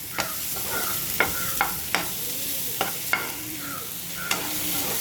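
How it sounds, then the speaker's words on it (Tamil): Potatoes fry in oil in a pan with a constant sizzle, while a utensil scrapes and clinks through them in repeated sharp stirring strokes, close and clear, with no voices. "கொஞ்ச நேரம் இந்த உருளைக்கிழங்கை இதில் ஃப்ரை பண்ணணும்"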